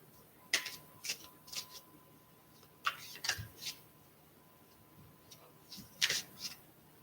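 Oracle deck cards shuffled by hand in a quiet room, several short riffling bursts with pauses between them, close and fairly soft, no talking.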